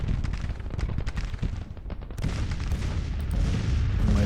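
Constant rumbling brigade gunfire from Grand Tactician: The Civil War crackles as dense overlapping musket volleys, with a continuous roar of distant battle underneath.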